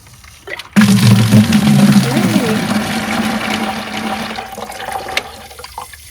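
Water gushing out of the bottom of a frost-free hydrant, a sudden loud rushing onset that settles into a steady flow and slowly eases off.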